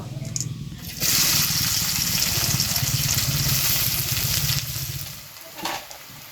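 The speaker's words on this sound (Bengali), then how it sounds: "তেলটা গরম হয়ে গেছে গরম তেলে কুচানো পেঁয়াজ দিয়ে দিব" Chopped onions dropped into hot mustard oil in a kitchen pan give a sudden loud sizzle that holds steady as a bright hiss, then fades after a few seconds.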